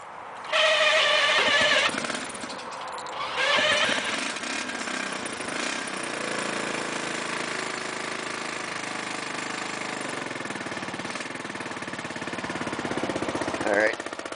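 Go-kart engine freshly treated with Marvel Mystery Oil and carburetor cleaner, cranking and catching cold, then settling into a loud, steady close-up idle with a short revving burst near the end.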